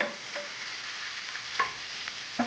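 Ginger frying in oil in a pan, a steady soft sizzle broken by a few brief clicks and stirring scrapes, close and moderately quiet, with no voices.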